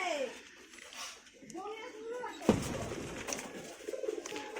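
A pigeon coos in soft repeated rolling calls at close range, mixed with a voice talking and a short clatter midway.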